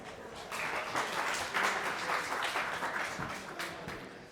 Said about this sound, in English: give a big round of applause for Sahas Chopra, please.